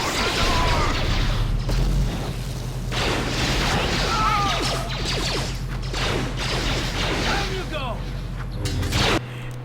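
A grenade bursts during combat in Star Wars: Knights of the Old Republic, amid a dense, loud mix of booms, whooshes and clanking mechanical game effects over a low rumble, ending with a sharp hit.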